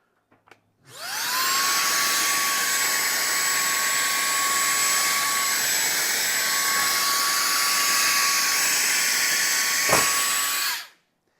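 A GRABO High Flow vacuum lifter spins up with a rising whine to a loud, steady hiss and hum while gripping a porous, gritty paver, briefly dipping as it lifts, then cutting off sharply.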